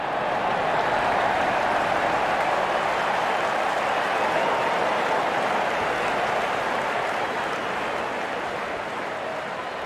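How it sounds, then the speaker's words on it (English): A crowd cheers and applauds in an India versus Australia cricket video game, a dense, steady roar that carries on unbroken at a moderate level with no voices standing out. "The crowd is enjoying every bit of this action."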